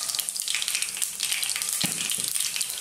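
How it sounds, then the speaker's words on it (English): Curry leaves crackle and sizzle in hot oil, a dense, steady spitting fry with a few sharper pops partway through. "here's my curry leaves, which can be a little bit noisy"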